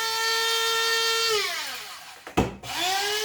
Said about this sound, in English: we're about to go ahead and grind it up